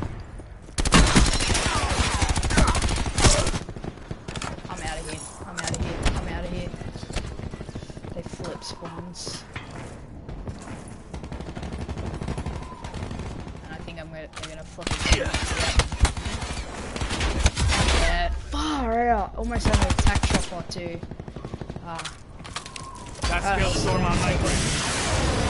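Gunfire in the Black Ops 4 beta, repeated loud bursts of automatic shots and scattered single cracks across a busy match, heard under frequent talking.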